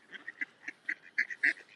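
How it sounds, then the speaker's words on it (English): Ducks on a canal towpath give a run of short nasal quacks and honks in an uneven rhythm, fairly close and moderately loud against quiet outdoor air. "Just enjoy the ducks for a few minutes."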